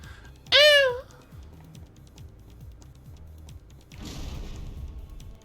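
A Castlevania: Lament of Innocence enemy lets out a single short wailing cry like a sad cat meowing, loud and close over quiet game background, followed a few seconds later by a low rumbling burst.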